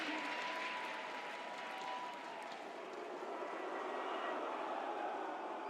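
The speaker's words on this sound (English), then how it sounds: "The whole crowd on their feet." A large arena crowd at a CS:GO Major final between Navi and FaZe Clan cheers and applauds in a continuous broad roar, steady and distant-sounding, with a faint commentator voice underneath.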